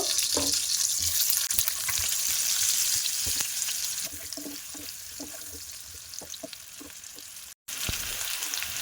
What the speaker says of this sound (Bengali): এবার যে আলুগুলো আমি ছিলে রেখেছিলাম ওই আলুগুলো আমি ভাজা করে নেব।